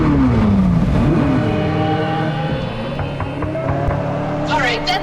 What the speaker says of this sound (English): Start the engine and go for a ride.